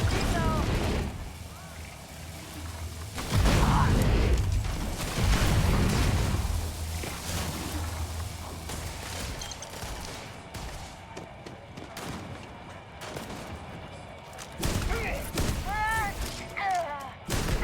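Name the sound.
gunfire in the video game Starfield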